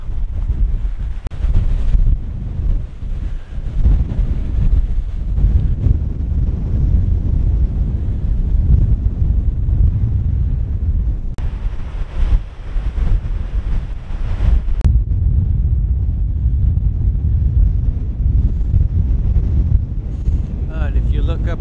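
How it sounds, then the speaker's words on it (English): Strong, steady wind buffets the microphone on a coastal walk in Wales, a loud continuous low roar with gusts and surf-like rushing throughout, a voice briefly heard over it. "Bit windy today."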